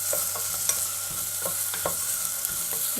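Onions sauté in oil for vegetable pulao: a close, continuous sizzle broken by regular scraping taps of a spoon stirring the pan, with no voices.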